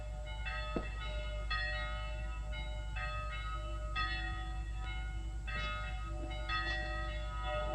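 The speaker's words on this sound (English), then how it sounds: "The bells are calling the people to the town hall" Church bells peal in a town, several tones striking in an irregular overlapping sequence over a steady low rumble, with no speech.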